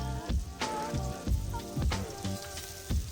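Onions fry in hot oil in a wok with a moderate crackling sizzle, broken by regular stirring scrapes about every half second, while background music plays underneath.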